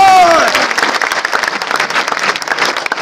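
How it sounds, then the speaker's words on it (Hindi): Loud audience applause fills a hall at a motivational business event, dense continuous clapping from a large crowd sustained throughout with no break. "एक बार जोरदार ताली टीसी छाबड़ा जी"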